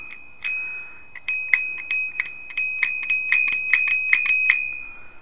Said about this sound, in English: if you're going to put a bell on your bike, don't get these ones.